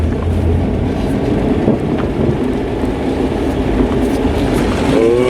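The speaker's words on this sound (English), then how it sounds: "I don't know what that rattling noise is." An old classic car that has sat unused for years drives along with a loud, continuous rumbling rattle and a clattering road noise close up.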